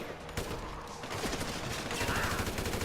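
Gunfire in the video game GTA V during an online mission: dense, rapid bursts of shots crackling continuously throughout, loud and close, with faint game sounds beneath.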